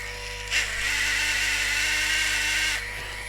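A Beurer MP 60 manicure drill with worn bearings gives off a brief rougher, louder whirring layer over its steady motor hum when pressed from the side, lasting about two seconds.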